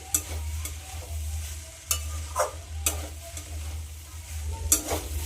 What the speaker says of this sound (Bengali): আমি গ্যাসটা কিন্তু একদম লোয়ে রেখে খুব ভালো করে ভেজে নিচ্ছি।